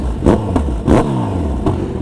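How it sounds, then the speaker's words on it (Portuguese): A Kawasaki Z1000 motorcycle engine blips loudly and up close, with four sharp revving bursts between the rougher idle growl. "A moto dele tá roncando demais, velho."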